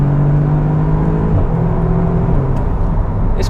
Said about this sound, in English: You get the sort of pops from the exhaust as you change gear.